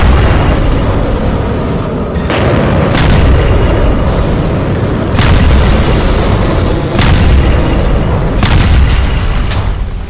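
Missile-attack explosions sound as a loud, continuous rumble with several heavy booms spread across the span, dense and close with no clear gaps.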